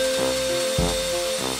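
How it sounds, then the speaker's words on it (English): A power drill bores through a deer antler, giving a steady, close, high whine with a brief dip and surge as the bit catches the material. "And drilled through the antler where I had it marked."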